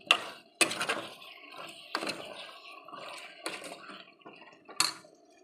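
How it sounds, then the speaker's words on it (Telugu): Chicken is stirred in a cooking pot, with a series of loud clattering scrapes and knocks of a spoon against the metal, separated by short quieter gaps, close and clear. "ఇది బాగా ఇప్పుడు కలుపుకుందాము చికెన్ అంతా."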